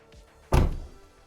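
A Porsche 986/996 car door swings shut once with a solid, close thunk after its lock mechanism has been replaced, and then the sound fades into quiet.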